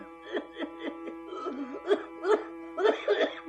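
A voice imitates coughing in a series of short, rhythmic hacking bursts over a steady musical drone in a bhajan, growing louder toward the end.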